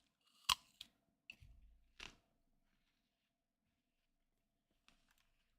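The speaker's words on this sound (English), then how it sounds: "You could hear the crunch of that apple on the mic." An apple crunched right against a microphone gives a few sharp, close bites and chewing crackles, then near silence with one faint crunch later.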